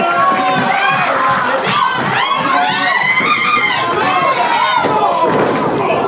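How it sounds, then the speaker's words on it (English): Wrestling crowd at a tag-team match cheering and shouting loudly and steadily, with excited voices and whistles, a few thuds beneath, and commentary talk over the top. "The crowd fully behind him."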